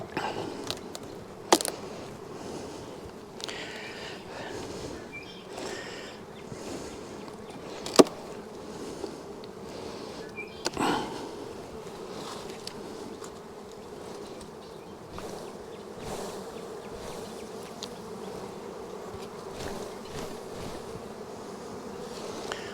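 Honey bees buzz steadily around a beehive, a dense continuous drone from many insects with a few louder clicks and knocks as the hive is handled.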